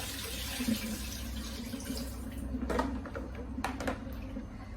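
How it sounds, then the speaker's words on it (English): Cold water running from a kitchen tap while parts are rinsed in a small kitchen sink, a steady close splashing stream with brief louder bursts of water hitting items near the end. "it's nice and easy to rinse with the cold water."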